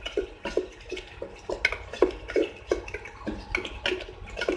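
A spoon stirs chicken curry masala with beaten yogurt in a pan, giving soft, repeated wet scrapes and light clinks at a quiet, close level with no talking.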